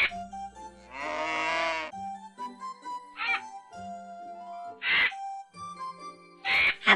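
Cartoon cows and crows calling: a long lowing moo near the start, then several sharp caws spaced through the rest, with a steady musical background underneath.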